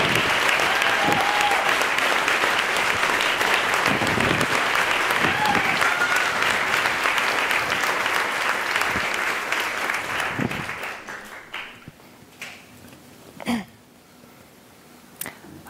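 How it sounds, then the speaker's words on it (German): A large audience applauds someone speaker, Eva Wenig, taking the stage for a talk on women's clothing; dense, loud clapping runs steadily for about ten seconds, then fades out into a quiet room with a few stray claps. "Bitte tosenden Applaus für Eva wenig."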